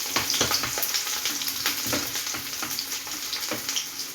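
Chopped garlic and a large piece of ginger fry in hot oil for a homemade mango pickle. The steady sizzle stays close and loud throughout, with small crackles and the occasional scrape of stirring.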